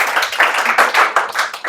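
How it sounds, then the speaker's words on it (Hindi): An audience at a student results celebration claps in a quick, uneven burst, with individual hand claps standing out close and loud in a rapid patter. "ताली बजा दीजिए भाई इनके लिए।"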